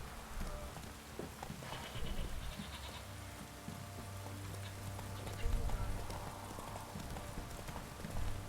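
Rhythmic hoof clip-clop of a horse in The Witcher 3: Wild Hunt over a steady game soundtrack, with a low droning tone and scattered ambient effects.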